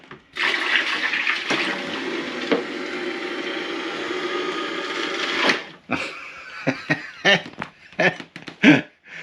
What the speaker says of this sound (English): It's pumping out.